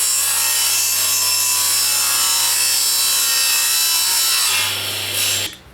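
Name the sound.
hand sawing reclaimed wood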